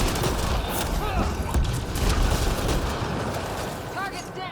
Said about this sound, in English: Shotgun. Piranha.